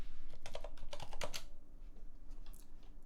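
Keys clack on a computer keyboard in a quick cluster of close taps during the first second and a half, then a few lighter scattered presses follow in a quiet room.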